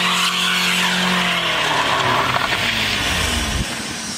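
Car doing a burnout with wheels chocked, rear tyres skidding and screaming as the engine revs at full power. The roar is loud and continuous, with a strained engine drone under broadband tyre noise, and no one talks.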